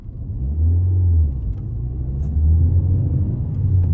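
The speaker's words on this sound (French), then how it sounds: "Là, sur le rond-point, je vais accélérer un peu plus." A Ford Fiesta accelerating around a roundabout, a steady, close engine drone from inside the car with the note rising and easing in low swells.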